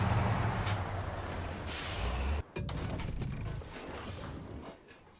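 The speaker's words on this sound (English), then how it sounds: "Oh, handbrake." A truck's handbrake engages in the SnowRunner video game on a Derry Longhorn 3194, giving a hissing air release with a ratcheting mechanical clunk over a low engine rumble.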